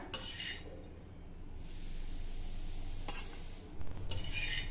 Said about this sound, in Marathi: आता ह्या गरम तव्यावरच थोड्या वेळासाठी हे आपल्याला परतायचं आहे